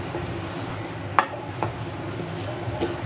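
A green betel-leaf modak mixture being stirred in a pan, with soft scraping and a sharp utensil clink against the pan, low background sizzle.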